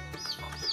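A brooding hen on a muddy, rain-soaked smallholding gives a few faint, short clucks and chirps in quick succession, close and quiet, with no talk over them.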